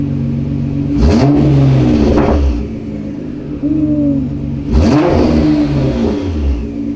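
A Nissan GTR car engine revving twice, each rev rising into a rough roaring sweep then falling back to a steady idle rumble, loud and close.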